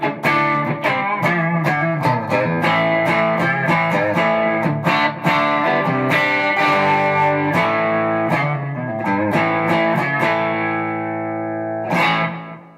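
An electric guitar played through a TC Electronic Darkmatter distortion pedal chugs a loud, gritty, mid-heavy rock riff of rapid chords, ending on a sustained ringing chord.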